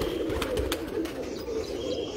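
Pigeons coo in a low, soft warble on a rooftop in Sharjah, continuous and fairly close, with faint chirps above.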